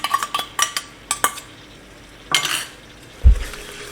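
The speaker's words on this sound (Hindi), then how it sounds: "इसको भी अच्छी तरह से भुनेंगे दही को" Yogurt being fried in a pan for soya biryani masala, with spoon stirring, scraping and clinking against the pan in bursts over a soft sizzle and one low thump near the end.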